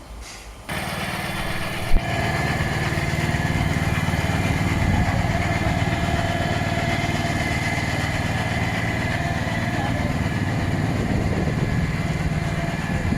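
Engine of an H 130 Pro hazelnut harvesting machine runs steadily and fairly loud, a continuous mid-pitched drone that starts abruptly after a short lead-in and holds throughout.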